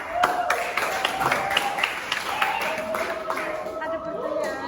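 Scattered clapping from a small class audience after a student group's presentation on Indonesian trade, uneven and modest in volume, with a tonal hum and voices murmuring underneath.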